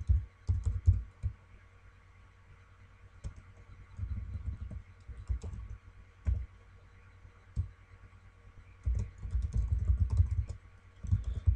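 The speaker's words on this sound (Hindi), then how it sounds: "आपने दोबारा अपने ईमेल एड्रेस को यहाँ पे टाइप करना है" An email address is typed on a computer keyboard in quick bursts of close, crisp key clicks, separated by short quiet pauses, with no talking.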